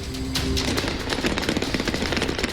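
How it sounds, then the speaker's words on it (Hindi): Rapid crackling bursts of gunfire at a wedding celebration in Nangarhar, Afghanistan, loud and dense, popping in quick irregular volleys over a constant noisy background. "शादी समारोह में बरसाई गोलियां।"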